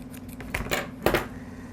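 Scissors snipping through a ribbon loop, with a few quick metallic cuts clustered in the middle, close and fairly quiet against a faint background hum.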